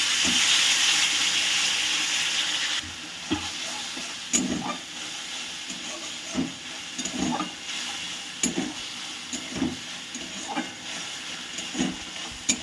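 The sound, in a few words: ground tomato paste sizzling in the pan for pabda fish curry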